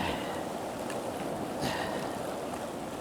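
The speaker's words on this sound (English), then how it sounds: "It is really hard to pan with the water going in and out so strong." Water surges in and out strongly around a gold pan at an ocean-like shoreline, a loud, continuous rushing wash with a slight swell in the middle, heard alone without talk.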